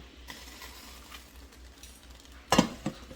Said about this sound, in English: I'm going to put this pasta right into that sauce to finish cooking